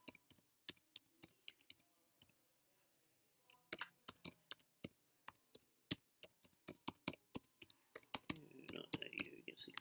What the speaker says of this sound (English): You get sick of typing your address, and I hit continue.